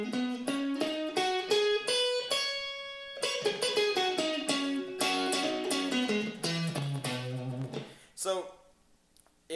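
Electric-sounding guitar picks out a blues pentatonic minor and major scale pattern, single notes stepping up the strings and back down at a steady pace, clear and close, ending with a few sparser notes.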